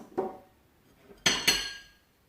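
Metal cooking pots knock and clink together in a kitchen while baby food is prepared, with a soft knock early on and then two sharp, ringing clanks close together, each fading out.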